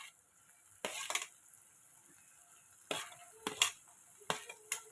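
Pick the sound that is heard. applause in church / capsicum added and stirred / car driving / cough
capsicum added and stirred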